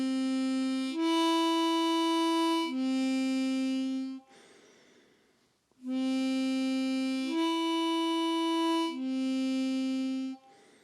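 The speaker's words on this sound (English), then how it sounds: "we're going to breathe in our nose while leaving the lips on the harmonica" A harmonica plays a single-note exercise on holes 1 and 2: sustained, clear notes in two short phrases, separated by a soft breath taken through the nose.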